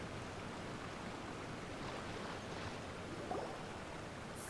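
Steady broadband rushing water from a waterfall in Genshin Impact, a constant even roar with no voices over it.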